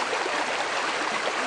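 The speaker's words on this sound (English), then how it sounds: "The bubbling sounds of Clark Creek" Clark Creek, running alongside the Baraboo River, bubbles and rushes in a steady, close, full-bodied wash of flowing water, continuous with no pauses and no voices.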